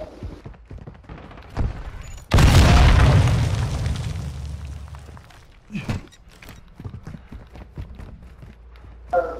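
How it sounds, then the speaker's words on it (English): A hostile cruise missile explodes in the video game Call of Duty: Modern Warfare II: one sudden loud booming blast with a deep rumbling decay, followed by scattered footsteps and small thuds. "Hostile cruise missile incoming."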